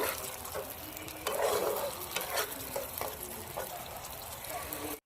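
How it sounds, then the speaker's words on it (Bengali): Spice paste fries in oil with a soft, steady sizzle while a utensil stirs it in short scraping strokes, with one brief louder bubbling burst, all fairly faint and close. "বাটি ধোয়া জলটা দিয়ে দেবো মশলার গায়ে যতক্ষণ না তেল ছাড়ছে ততক্ষণ একটু নাড়াচাড়া করে নেব"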